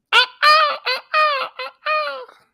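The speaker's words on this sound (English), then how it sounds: "The birds are chirping." Birds call nearby in a quick series of six harsh, honking bursts with short gaps between them, loud and close with no talking.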